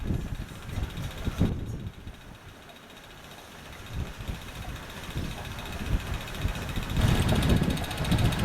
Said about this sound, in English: Unusual problem of our region, we've got wind again.